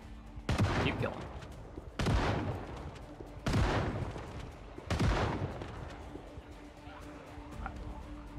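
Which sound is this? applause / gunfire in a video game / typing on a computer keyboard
gunfire in a video game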